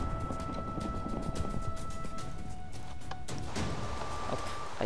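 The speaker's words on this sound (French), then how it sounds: "Hop, allez, hop, cheval." Horse hooves clip-clop in a steady, fairly loud run in the Minecraft modpack Terra Restore, with rapid repeated hoof beats over constant game ambience and no talking.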